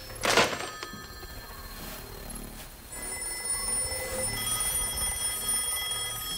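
A telephone rings in a shop: one sharp, loud bell burst at the start, then a quieter, sustained electronic ringing tone that carries on over a low room murmur.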